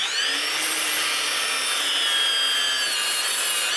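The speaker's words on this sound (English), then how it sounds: "Now we can totally go whatever we need to go and cut us a compound miter." DeWalt 60V cordless 12-inch sliding miter saw cutting a compound miter in wood, a loud, steady high-pitched whine of the spinning blade biting through the board, close and continuous.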